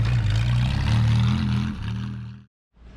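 Hudson Essex fitted with a Holden 202 engine running on a dyno, a loud steady engine drone with a deep low hum that wavers slightly, then cuts out abruptly before restarting.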